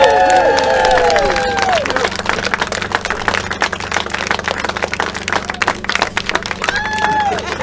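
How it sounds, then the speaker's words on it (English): Wedding guests cheer and clap together, with whoops and high shouts at the start, then steady applause and crowd noise that rises again near the end. "And a cheer, please."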